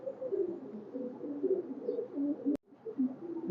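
Red-necked highflyer pigeons at a loft coo softly and repeatedly in low, burbling phrases, close by, with a brief click near the end.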